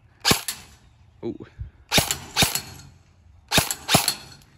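Airsoft gun fitted with an AceTech Lighter S tracer unit fires outdoors at dusk, three close paired snapping shots spaced about a second and a half apart, with a brief spoken exclamation between them.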